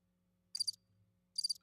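A cricket chirp sound effect plays alone: two short, bright trilled bursts spaced under a second apart over near silence.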